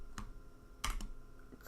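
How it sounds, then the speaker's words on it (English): Keys clatter on a computer keyboard in a few short bursts of clicks, close and fairly quiet, with gaps of near silence between them and no voices. "my keyboard at least, like, sounds decent."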